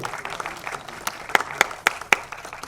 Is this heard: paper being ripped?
no